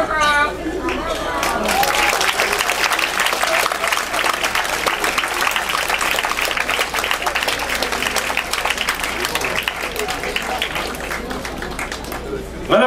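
An audience at a ventriloquist show on a cruise ship breaks into sustained applause, a thick, even wash of clapping with crowd murmur, while a presenter speaks over it.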